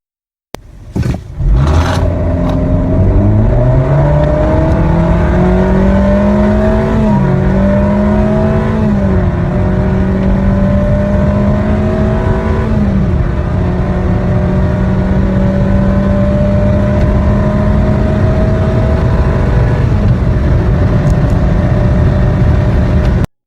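A CVT car accelerates hard with simulated gear shifts. Its loud engine drone rises in steps, dipping in pitch at each fake shift before climbing again, then settling into a sustained high whine.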